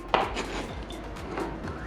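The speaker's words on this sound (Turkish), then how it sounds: "You need to chop it into cubes." A knife chopping onions and tomatoes on a cutting board for tacos, several quick, close knocks in an uneven rhythm with no talking.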